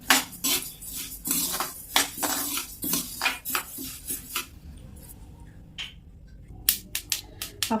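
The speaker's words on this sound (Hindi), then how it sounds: "आप सुन सकते हैं कि अलसी के चटकने की आवाज आ रही है।" Flaxseeds roasting in a pan for ladoos, crackling in rapid, irregular sharp pops and ticks, close and fairly quiet, thinning out briefly before a fresh burst of pops.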